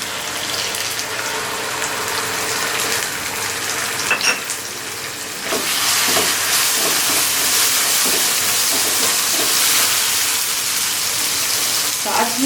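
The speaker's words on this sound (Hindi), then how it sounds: "अब हम ये डालेंगे इसमें टोमेटो प्यूरी" Tomato puree hits a hot pan of paneer and mixed vegetables, raising a loud, close, continuous sizzle and steamy hiss with some stirring scrapes, after a softer frying stretch.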